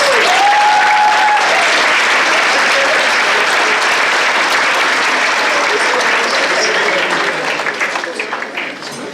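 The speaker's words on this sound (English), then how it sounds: "Let's give her a big round of applause." Audience applause for a woman taking the stage at an International Women's Day event, a dense, steady clapping from a sizeable crowd that carries on for several seconds before thinning out toward the end.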